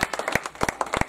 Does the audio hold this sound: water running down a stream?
no